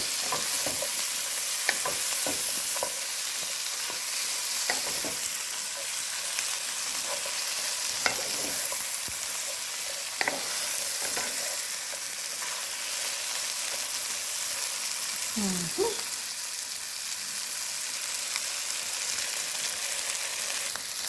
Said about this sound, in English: Then we're gonna give that a good little stir to combine everything.